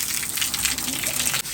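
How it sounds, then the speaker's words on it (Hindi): Water gushing and splashing in a flooded room during heavy rain, a loud constant rushing spray that cuts off abruptly near the end. "अब जी कमरे में से पानी निकाला जा रहा है क्योंकि सारा कमरा जो है भर गया है पानी से"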